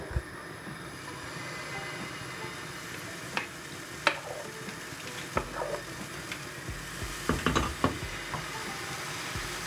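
Dosa batter from a ladle hitting a hot nonstick pan for Jaffna yellow masala dosa, a steady close sizzle with a few scraping and tapping clicks, no talk.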